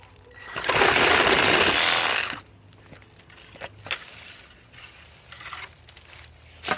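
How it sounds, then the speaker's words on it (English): A Ryobi P2503 ONE+ 18V cordless pruning reciprocating saw cuts through a dead branch: a loud, close, buzzing cutting burst of about a second and a half, then stops, followed by scattered knocks and rustling of wood. "so here we are with the reciprocating saw"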